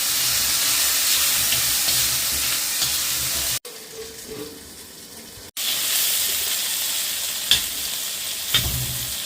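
Small onions sautéing with salt in a hot pan for hotel-style sambar, with a steady close sizzle and stirring scrapes, a brief quieter pause midway, then loud frying again with occasional sharp clinks.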